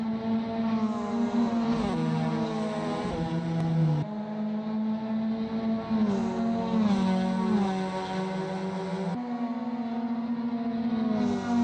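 Continuous droning engine tones rising and falling in pitch, several Mazda MX-5 race cars in a racing video game at Lime Rock Park revving and shifting together at steady loudness, with no voices.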